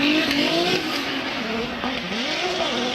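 Drift car tires squeal during Formula Drift qualifying in New Jersey. A loud, continuous screech with wavering tones runs over engine roar throughout, heard at distance over a steady background.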